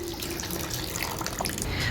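Cold tap water runs steadily into a sink for wudu ablution on a hot day, a continuous close splashing hiss with no voices.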